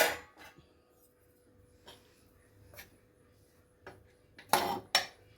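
A pressure cooker of biryani rice is opened in a home kitchen, with sharp metallic clinks and clanks of the pot and lid between quiet pauses, the loudest clatter near the end.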